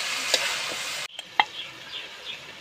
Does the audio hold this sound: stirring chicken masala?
yes